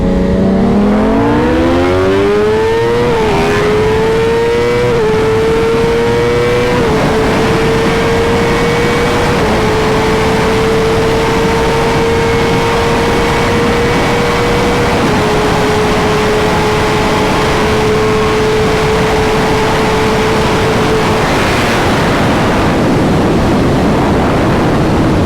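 A tuned, built-motor BMW S1000RR and a stock Kawasaki ZX-10R race on a street, their engines screaming loud and close as the revs climb and step through quick gear shifts before holding a sustained high-pitched drone.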